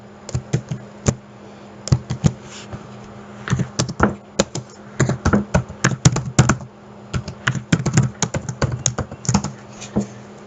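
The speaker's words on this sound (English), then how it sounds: "Let's type in the code that was on the slide." Rapid, uneven keystrokes clatter on a computer keyboard as code is typed in, sharp clicks arriving in quick bursts with brief pauses, close and clear over a low steady hum.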